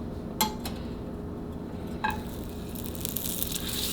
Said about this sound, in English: It's melting good and fast and getting good and bubbly